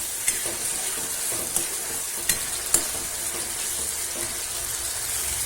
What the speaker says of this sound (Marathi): ही भाजीनं चांगली तेलामध्ये छान परतू द्यायची